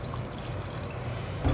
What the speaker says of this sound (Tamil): பாருங்க இப்போ தண்ணி தேவையான அளவுக்கு ஊற்றிக்கிறோம்.